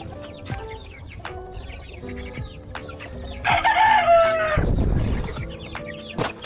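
A fighting rooster crows loudly nearby amid ongoing hen clucking, followed by a rough rustling burst and a few more clucks.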